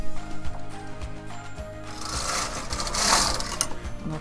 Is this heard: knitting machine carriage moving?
yes